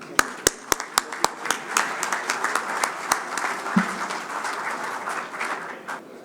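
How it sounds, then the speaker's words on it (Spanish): Audience applause at a maize industry congress in Argentina, opening with a few sharp, distinct claps near the microphone and then settling into a steady, moderate round of clapping throughout. "Un aplauso anticipado al éxito del Congreso Maizar."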